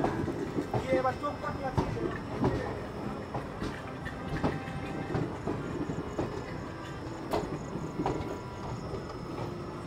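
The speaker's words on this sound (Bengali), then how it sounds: "তো 5 মিনিট দাঁড়িয়ে ট্রেন ছেড়ে দিল জঙ্গিপুর থেকে।" An AC express passenger train rolls along the tracks between Jangipur and Farakka with rhythmic clattering and scattered metallic clicks, a steady rumble under faint distant voices.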